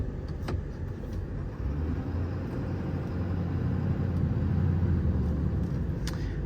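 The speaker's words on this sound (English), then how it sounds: "I'm going to take the truck down the road for a quick spin" A 2024 Ford F600 with a 6.7 Power Stroke diesel drives along a road, its engine giving a steady low rumble with faint road noise, heard from inside or close by.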